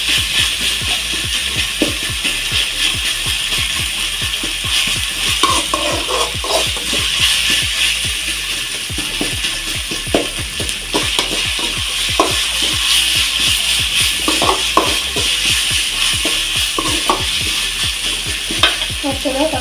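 Vegetables with ginger garlic paste sautéing in a pan for pasta, a steady close sizzle broken by frequent scraping stir strokes throughout, with no talking.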